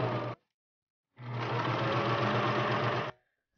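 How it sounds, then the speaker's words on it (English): A sewing machine stitches fabric for a dog bone Christmas stocking, a brief burst of whirring stitches, then a pause and a longer steady run of close, even mechanical stitching. "What we're going to do is sew all the way around the bottom and stop right here"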